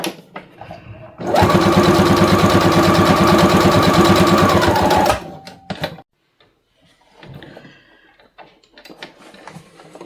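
A sewing machine stitches around the edge of a fabric holder for pencils and pens that fits onto a book, running loud and steady for about four seconds before stopping, followed by soft handling noises.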